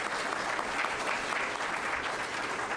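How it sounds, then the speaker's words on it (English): Audience applause in a meeting room, a steady, dense round of clapping that carries on evenly throughout with no talking. "Round of applause for Sheila."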